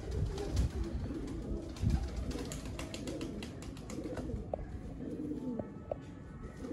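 Breeder pigeons coo in a loft, a soft continuous rolling coo from several birds close by, with faint chirps and scattered light knocks.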